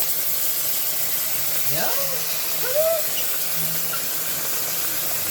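Mushrooms sizzling on a hot plate after a long ride, a steady close hiss running throughout while someone talks briefly over it.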